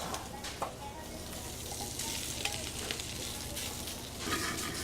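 Chicken and mushrooms sizzle steadily in a pan, a continuous close frying hiss with occasional stirring clicks and small crackles, and no talking.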